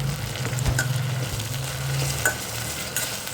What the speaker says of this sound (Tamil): இஞ்சி பூண்டு பேஸ்ட்டு சேர்த்ததும் இந்த பச்சை வாசனை எல்லாம் போகிற வரைக்கும் அதை நல்லா வதக்கிடலாம்